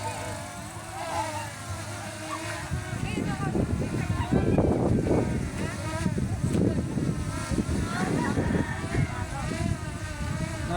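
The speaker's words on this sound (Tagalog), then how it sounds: "Naririnig nyo ba yung propeller niya? Yung motor kung paano siya lumaban sa hangin?" An L200 Pro Max drone's propellers and motor whine with a steady insect-like buzz while fighting strong wind, with loud gusty rumble and a voice speaking over it.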